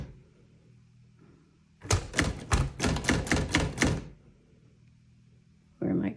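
A 1940 Continental Silenta typewriter is typed on in a quiet room, a rapid burst of about a dozen sharp, close keystrokes lasting two seconds, followed by silence and then another clack.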